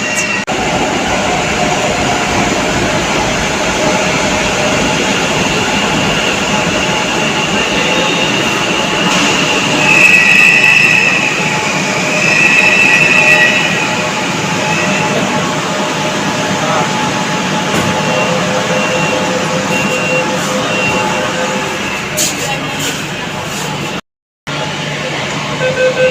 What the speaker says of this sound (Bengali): মানে মেট্রোটা জাস্ট ঢুকলো